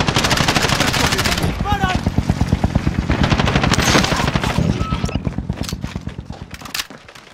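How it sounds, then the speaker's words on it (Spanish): Helicopter taking off in the video game Warzone, a loud rapid rotor thumping that starts dense and close, then thins out and fades as it pulls away, with brief game sounds over it. "Helicóptero saliendo"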